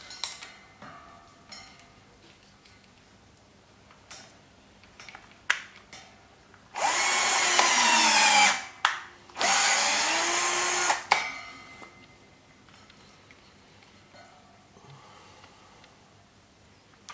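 A battery-powered tube expander rolls copper boiler tubes, with two loud, close bursts of whining motor lasting a few seconds each, set among scattered metallic clinks and handling knocks.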